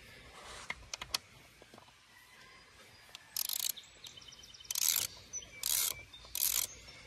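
A hand ratchet works on 10 mm bolts holding a 4L60E transmission pan on an S10 Blazer, with scattered clicks and then several bursts of fast, buzzy ratcheting, close by.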